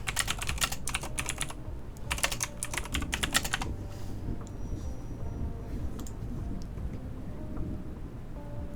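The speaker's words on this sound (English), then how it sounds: "You're gonna get the fun Skadi typing sounds now" Quick bursts of clicky keystrokes on a Skadi computer keyboard rattle close up for about three and a half seconds, then stop, leaving a low rumbling rain-like background hiss.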